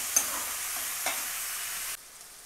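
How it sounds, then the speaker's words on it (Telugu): Onions fry in oil for a chutney: a close, steady sizzle with a couple of quick stirring scrapes, and the hiss drops away abruptly near the end. "ఇదిగోండి, ఉల్లిపాయలు దోరగా వేగింది."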